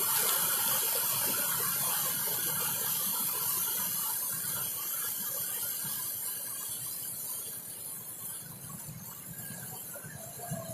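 Fast-flowing water rushes past in a continuous broadband hiss and spray, holding steady and easing slightly toward the end, with no voices.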